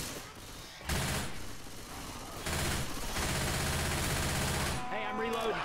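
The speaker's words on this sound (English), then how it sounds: "Machine gun." Machine gun fire in Left 4 Dead 2, loud sustained automatic bursts with brief pauses between them, close and dense, with voices speaking over parts of the shooting.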